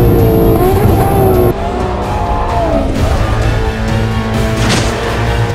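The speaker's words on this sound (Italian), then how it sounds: "Sempre tutte le Ferrari sono famose per la sua potenza, la sua bellezza estetica e poi per il rumore, che è già sexy solo da sentire una Ferrari." A Ferrari F12 Berlinetta's engine roars loud and close while driving, with a sustained rising and falling rev through gear changes and no voices.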